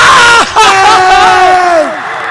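A packed crowd at a high school boys basketball game between Jamesville-DeWitt and Oswego erupts in loud screams and cheers after a three-pointer, with a brief dip before the roar swells again and slowly fades.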